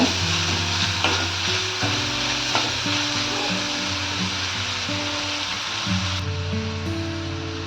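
Dry raisins frying in a pan for grape gojju: a steady, close sizzle with occasional stirring scrapes, and no talk over it.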